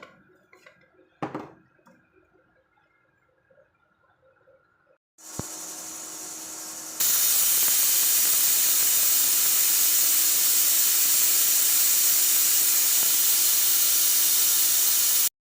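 A pressure cooker of dal, lentils cooking with rice, starts with a few clicks and quiet rattles, then bursts into a loud, sustained steam hiss that rises to a harsh, full whistle and continues to the end.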